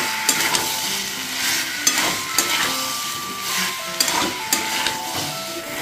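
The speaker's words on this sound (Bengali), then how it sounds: "দিয়ে ভালোভাবে কষিয়ে নিচ্ছি আবারও।" Kashmiri chili powder and spices sautéing in a pan with steady frying sizzle, punctuated by repeated scraping and stirring knocks of a utensil against the pan, close and continuous with no talk.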